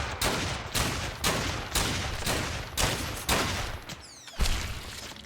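Rapid bursts of gunfire in the video game Fallen Earth, six or seven loud evenly spaced volleys in quick succession, with no talk.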